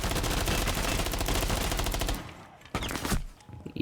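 Rapid automatic gunfire in the video game Rainbow Six Siege, loud and close for about two seconds, then a brief pause and a shorter second burst.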